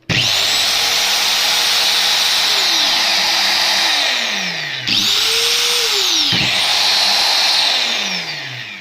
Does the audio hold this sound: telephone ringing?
no